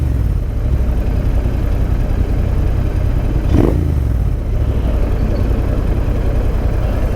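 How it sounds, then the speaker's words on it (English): A Royal Enfield Interceptor 650 parallel-twin exhaust rumbles steadily while riding at night, a close, low, continuous drone with wind noise and one brief passing swell midway. "Sounds good though, the exhaust."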